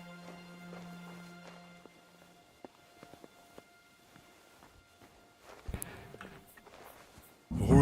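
Horses' hooves clip-clopping in Kingdom Come, a faint sparse run of hoofbeats that grows busier and nearer toward the end, under a low steady background tone.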